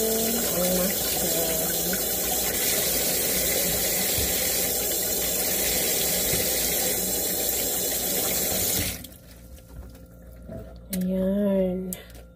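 Tap water gushes steadily over mushrooms being washed for a broccoli and beef dish, then cuts off, followed by a short burst of speech.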